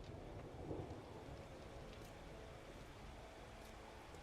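Steady rain with rolling thunder in the survival game 7 Days To Die, a dense continuous wash of rainfall with a low rumble swelling briefly near the start, no voices.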